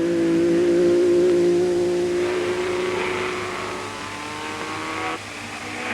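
Early 1960s racing cars roar past on a circuit during a race, a loud sustained engine drone that shifts in pitch as the cars go by, with no talking.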